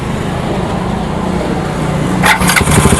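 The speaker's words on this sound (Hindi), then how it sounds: "मैं बाइक को स्टार्ट करता हूँ" A cold motorcycle engine cranks and catches near the end after a steady idle-like mechanical drone, close and fairly loud, with no talking.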